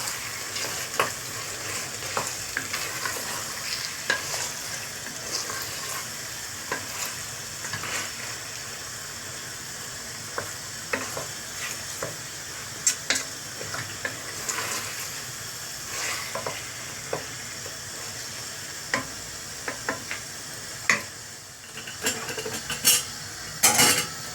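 Chickpeas added to a simmering sauce and stirred, a steady sizzle and bubble with scattered scrapes and clinks of a utensil against the pot.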